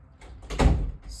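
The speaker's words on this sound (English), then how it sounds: "Close the door for me, please." A door swings shut indoors with a brief rush of movement ending in a solid, close thud, followed by quiet.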